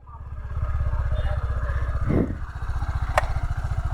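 A motorcycle engine runs steadily throughout a road ride, its loud, close exhaust thumping in a rapid regular pulse, with a brief rush of wind noise midway and a short high electronic beep near the end.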